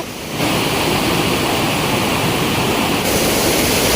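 Monsoon-swollen village stream rushing loudly and steadily, a dense close roar of flowing water with no voices.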